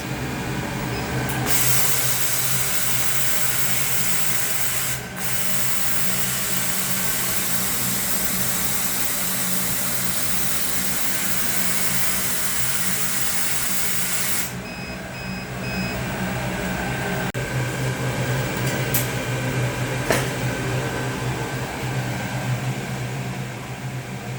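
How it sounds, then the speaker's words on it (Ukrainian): Steady loud mechanical whir and hum of a laser cutter for plywood with its ventilation fan, continuous throughout, with brief dips and a shift in tone partway. "Включаємо лазер, включаємо вентилятор, старт."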